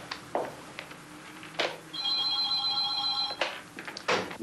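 A telephone in an office rings once with a bright, steady electronic trill lasting about a second and a half. Scattered clicks and handling noises come before and after, and no one speaks.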